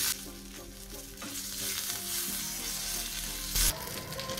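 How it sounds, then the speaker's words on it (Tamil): Mustard seeds and asafoetida sizzle in hot oil as tempering for rasam, a steady close frying crackle throughout with a brief louder burst of spattering near the end. "ரசத்துக்கு தாளிக்கிறதுக்காக எண்ணெய் வச்சுருக்கேன். கொஞ்சம் கடுகு, பெருங்காயம் போட்டு கேஸ் ஸ்டவ் ஆஃப் பண்ணிடலாம்."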